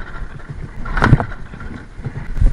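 A Balkan boat engine struggles to start and fails, giving one brief rough burst of cranking in the middle, surrounded by wind buffeting and water noise.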